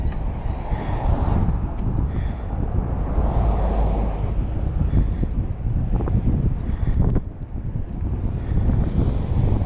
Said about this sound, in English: You guys probably can't hear me anyway with the wind